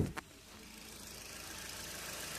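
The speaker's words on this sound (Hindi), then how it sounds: "देखो ये गाड़ी पेट्रोल में चालू हो गई है, अभी ये पेट्रोल में है और इंजन दिखाता हूँ, एकदम स्मूथ है।" Maruti Swift Dzire engine running on petrol at idle, a steady, even mechanical hum heard up close after a brief knock at the start, with no voices.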